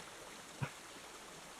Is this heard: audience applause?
no